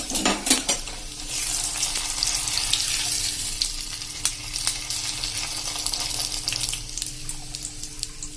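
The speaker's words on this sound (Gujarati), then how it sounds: "તો આ જ રીતે આપણે બધા પૌવા તરી લેશું" Poha flakes frying in hot oil for Gujarati chevdo, a steady close sizzle and crackle throughout with occasional stirring and scraping from a metal slotted spoon or ladle in the pan, no talking.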